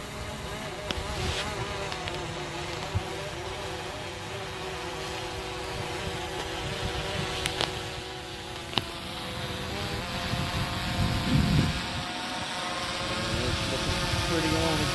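DJI Phantom 4 Pro V2 drone landing in an open field: a steady, close, insect-like buzz of spinning propellers with a sharp thud of touchdown near the end.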